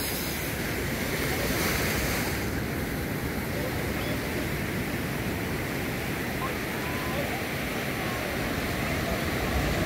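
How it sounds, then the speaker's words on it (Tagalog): Big ocean waves crashing at Bucana beach in Nasugbu, Batangas, a constant loud roar of surf and wind that fills the whole stretch without letup. "Ang tindi ng alon mga ka-drive, oh."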